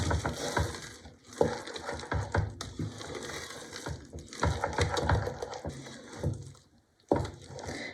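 A spoon scrapes and stirs amber honey into a thick rugelach filling in a bowl, with irregular close crunchy strokes and brief pauses.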